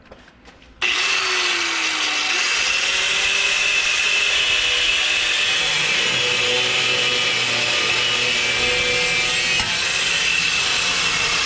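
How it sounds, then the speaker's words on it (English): A power cutting tool slices through rusty exhaust clamps on a Ram truck during a mid-muffler delete, starting abruptly and then running as a continuous loud, harsh whine for about ten seconds. "we are going to just cut the clamps off instead of trying to unbolt them because the bolts are really rusty"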